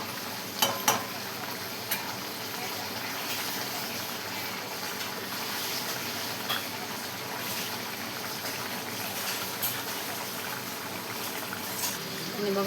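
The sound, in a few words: mixed cauliflower, cabbage and potato vegetable cooking in pan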